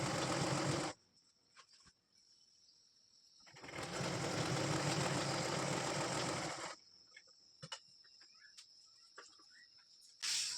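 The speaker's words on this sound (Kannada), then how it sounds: "ನೋಡಿ ಈ ರೀತಿ ಫೋಲ್ಡ್ ಮಾಡಿಕೊಂಡು ಎರಡು ಕಡೆನೂ ಸ್ಟಿಚ್ ಮಾಡ್ಕೊಂಡು ಬಿಡೋಣ" A sewing machine stitches folded fabric for a storage bag made from old cloth, running in two loud, steady bursts of about a second and three seconds, with quiet handling between them and a brief restart at the end.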